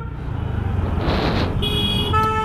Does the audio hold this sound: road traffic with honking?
yes